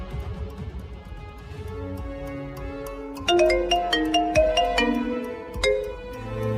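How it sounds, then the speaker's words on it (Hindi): A phone ringtone sounds for an incoming call, a bright electronic melody of repeated chiming notes rising clearly over a low background hum partway through. "फोन पर एक कॉल आया"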